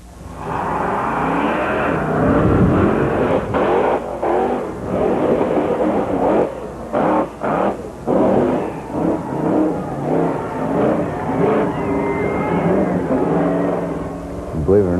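Bigfoot 48 monster truck crushing cars, its engine roaring loud and continuous with revving surges and crunching bursts throughout, voices faintly mixed in.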